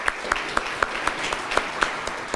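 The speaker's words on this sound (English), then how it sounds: "If we can give Ryan a round of applause." An audience at an annual meeting applauds, with the overall wash of applause carrying steady, evenly spaced louder claps through about two seconds.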